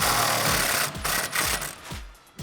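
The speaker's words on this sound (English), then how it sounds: "I'm gonna give 1 hand to the bar and 1 hand to my impact and get this bolt" Impact wrench taking out a sway bar bolt on a 1994-2004 Mustang, firing in short repeated bursts close by. Each rattling hammer burst cuts off before the next, and no one speaks.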